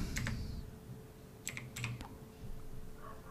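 Typing on a computer keyboard in a Windows 11 setting, with a short burst of clicks, a pause, then a second quick cluster of keystrokes, close and moderately quiet.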